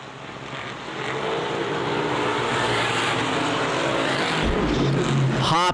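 Street stock race cars roar around Winchester Speedway, their engines building into a loud, dense, continuous drone as the pack passes close by.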